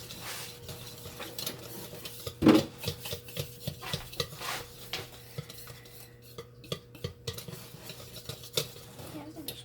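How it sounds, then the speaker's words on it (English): Cupcake batter with milk being mixed in a bowl, a steady run of scraping, clinking strokes against the sides, moderately close and fairly quiet, with no one talking. "Keep on mixing."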